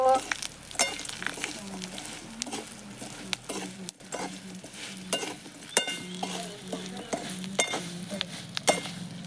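A spoon stirs homemade masala and salt through food in a sizzling pan over a traditional wood-fired chulha, with repeated scraping strokes and clinks against the metal over a steady frying hiss.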